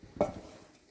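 A single brief scrape of a spoon stirring semolina halwa with ghee in a pan, close and short, then fading into quiet room tone.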